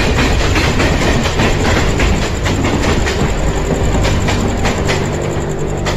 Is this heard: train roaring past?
yes